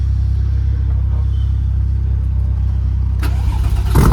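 An older RWB Porsche runs after a cold start, giving a loud, low, steady idle rumble up close that rises into a sharper rev near the end.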